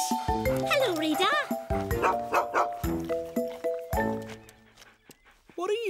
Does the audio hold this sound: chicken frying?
no